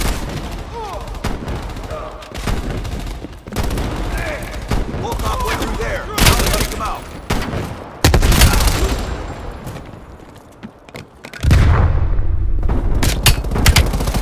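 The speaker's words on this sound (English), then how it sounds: "Got a lot of shotguns going on" Gunfire from shotguns and other weapons in the online shooter Call of Duty Black Ops Cold War, with a series of loud, sharp blasts and heavy booms recurring across the whole stretch, some very close, mixed with game noise.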